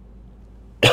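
A single short, sharp cough bursts out near the very end, close and loud, after a quiet stretch of faint low background hum.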